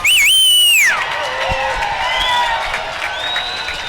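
Spectators in the bleachers at a masters national swimming championship cheer a swimmer in the men's 200 butterfly, with sharp, loud whistles at first and then sustained whoops, shouts and crowd noise.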